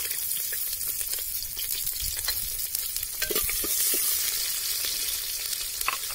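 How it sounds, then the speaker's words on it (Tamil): Onions going into hot oil with popping mustard seeds for a village herbal rasam, giving a steady close sizzle with scattered crackles and light stirring clicks throughout. "கடுகு பொரிஞ்சிருச்சு, வெங்காயம் சேர்த்துக்கலாம்."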